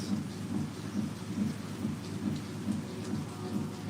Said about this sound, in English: but it's fucking literally raining.